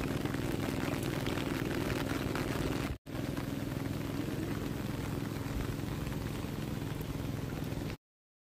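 Rain pours onto a Konkan farm field in a dense, continuous patter, broken by one brief dropout before the downpour resumes at the same steady level, with no talking.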